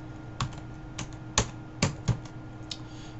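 Computer keyboard being typed on, a handful of sparse, soft key taps spread over a few seconds, fairly quiet and close with no speech over them.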